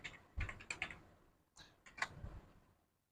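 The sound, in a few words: typing a command on a computer keyboard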